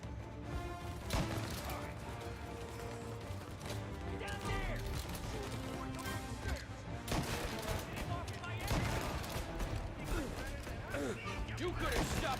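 Gunfire in the Mafia: Definitive Edition video game, repeated sharp shots and crashes over a dense backdrop of game music and effects, with voices talking throughout.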